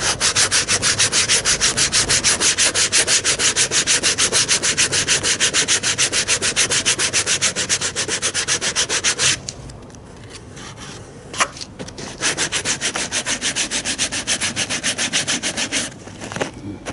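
Dense, steady rubbing and shaving of a rubber weatherstrip on a 1978 Lincoln Mark V, continuous and close for about nine seconds, then a brief quieter pause before the scraping strokes resume.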